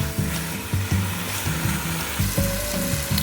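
Chicken pieces sizzle and fry steadily in a hot pan for a Malaysian curry, with a continuous close crackle and occasional stirring knocks, no voices present.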